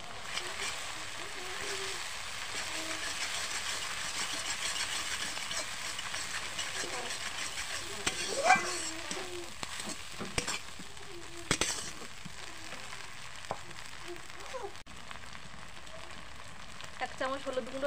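Ginger, onion and garlic fry together in spiced oil for a chicken curry, producing a continuous soft sizzle punctuated by irregular spatula scrapes and knocks against the pan.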